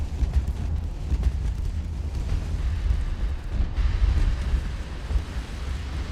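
Naval gunfire in the warship game Ultimate Admiral: Dreadnoughts, a continuous heavy low rumble of distant cannon fire and explosions with rolling booms, steady and loud throughout without speech.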